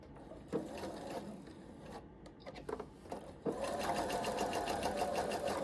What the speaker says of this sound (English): I'll go in with my straight stitch machine and I'll just stitch I'll do a quick stitch